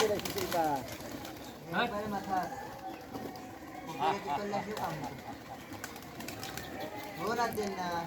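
A pigeon coos several times in rolling, repeated calls near the listener while someone speaks over it outdoors.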